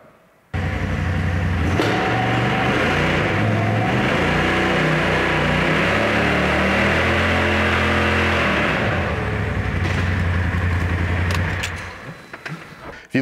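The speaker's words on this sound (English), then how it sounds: "we're gonna go start this engine, hold the brake pedal, shift this thing to high and rev it up" A Polaris off-road vehicle's engine revs hard with the brake held and the transmission in high, a loud close mechanical drone that climbs and wavers for several seconds before dropping back down.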